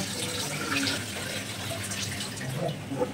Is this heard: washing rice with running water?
yes